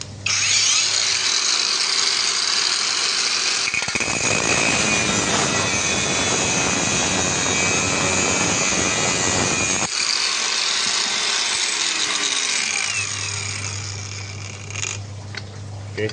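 A cheap Boerte angle grinder cuts through 3 mm material, a loud, steady high-pitched whine with grinding noise lasting most of the clip, briefly interrupted near the start and middle, then spinning down toward the end.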